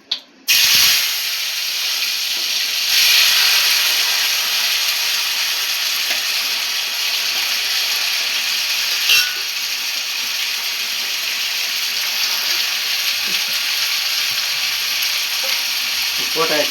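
Onion, tomato, ginger, garlic and green chilli sauté in a pan, a steady close hiss and sizzle that runs on evenly with occasional faint clinks, no voices.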